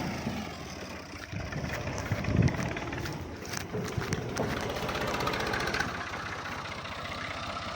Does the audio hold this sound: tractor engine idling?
yes